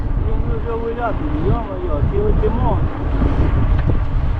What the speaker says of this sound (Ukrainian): такий вітер не знаю, як мене чутно